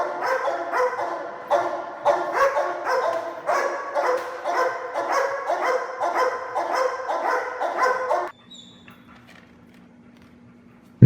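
A protection dog barks steadily and loudly at a decoy in bite-work training, a rapid run of close barks for about eight seconds that stops abruptly, leaving a faint background hum.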